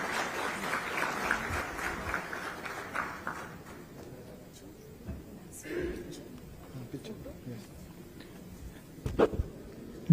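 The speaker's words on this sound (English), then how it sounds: "A big round of applause, please." Audience applause at an international aerospace conference with an IT minister present, a burst of clapping that is strongest at the start and thins out, with scattered claps and background talk afterward.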